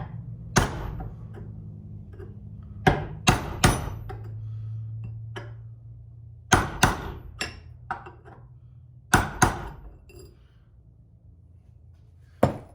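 A hammer strikes a chisel to pry open a part on a 1986 Cutlass, sharp metallic blows coming singly and in quick pairs over a low hum, close and loud.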